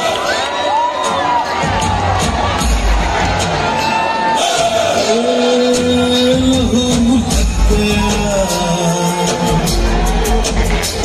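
An audience at a PG hostel annual function at Ravenshaw greets a guest with loud, continuous cheering, whoops and shouts that fill the hall.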